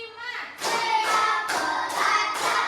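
A classroom of pupils claps in unison as part of a numbered clapping routine, about five sharp group claps spaced evenly, loud and close with faint room noise between.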